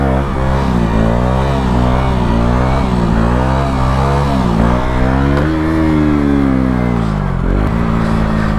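A 125cc four-stroke motorcycle engine revs hard during a wheelie, its pitch rising and falling in repeated surges, loud and close, with a sharp drop near the end.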